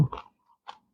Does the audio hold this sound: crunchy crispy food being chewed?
yes